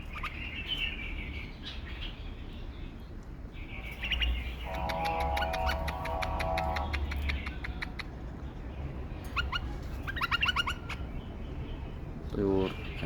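A mated pair of two-year-old caged bulbuls chirps in quick bursts and trills, fairly close, over constant low background noise.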